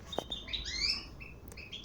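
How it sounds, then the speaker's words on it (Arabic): A caged European goldfinch sings bright twittering phrases, several short chirps and trills in quick succession, fairly close and alone against a faint background hiss. "الحسون راه يغرد بصح مازال ما بداش يبني العش"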